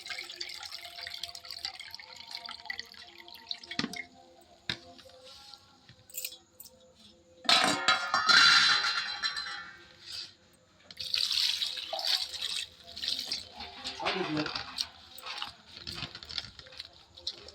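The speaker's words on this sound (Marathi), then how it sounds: "मम्मीने एक पाण्यात भाजी धुवून घेतली आहे" Freshly picked dill leaves are washed in a vessel of water, with splashing, dripping and patter coming in uneven bursts.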